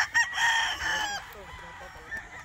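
A rooster crows loudly nearby, then chickens cluck and murmur more softly in the background.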